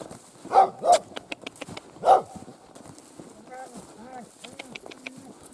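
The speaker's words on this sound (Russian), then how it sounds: "Ну, собака. Собака тут." An old dog on a Russian forest homestead barks three times, loud and close, in short separate bursts near the start. Quieter clatter and a few birdlike chirps follow.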